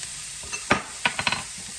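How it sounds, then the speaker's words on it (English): Onions and garlic sauté in butter for chicken sauté, a low hiss broken by a few sharp scrapes and taps of a utensil against the pan, close and brief. "I'm now going to saute the onions"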